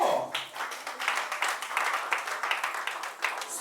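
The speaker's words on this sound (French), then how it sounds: "Faut applaudir très fort" An audience at a dedication event claps and cheers, dense continuous applause with scattered louder claps, fairly close and steady throughout.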